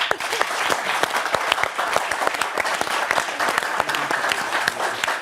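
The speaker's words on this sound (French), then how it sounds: "Je vous demande d'applaudir et d'accueillir Jonathan." Studio audience at a French TV debate show applauding a guest's entrance: dense, steady clapping from many hands throughout, loud and close, with no break.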